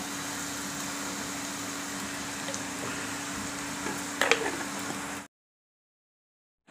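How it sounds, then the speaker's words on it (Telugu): Ginger garlic paste frying in a pan for a tomato and green chilli chutney, with a soft continuous sizzle under a low steady hum, a few light clinks near the end before it cuts to silence. "వేగుతుంది కదా"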